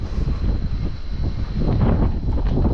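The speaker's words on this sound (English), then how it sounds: "Oh, it's very windy." Gusty wind buffets the microphone with low rumbling thumps on a high mountaintop temple in Koh Samui, growing stronger in the second half.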